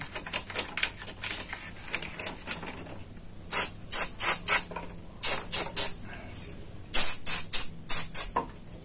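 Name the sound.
spraying onto the amplifier's equalizer section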